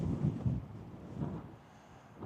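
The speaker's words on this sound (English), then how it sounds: "But it's windy up here." Gusts of wind buffet and rumble in low, uneven surges that fade to a quieter hiss.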